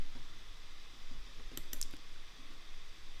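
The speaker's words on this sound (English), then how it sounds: "we're gonna right click" A computer mouse clicks quickly a few times in a small cluster, crisp and close but faint, over a steady quiet background hiss with no talking.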